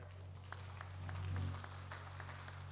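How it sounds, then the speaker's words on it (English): A congregation at a funeral homegoing service claps in scattered praise, soft, uneven hand claps coming from across the room over a steady low hum, with no voices. "That's enough to give God a hand clap of praise right there."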